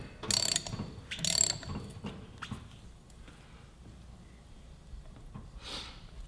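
A hand ratchet clicks in two quick bursts while loosening a front brake rotor bolt on a Yamaha YZF-R3 motorcycle, followed by faint handling noises and a soft later sound.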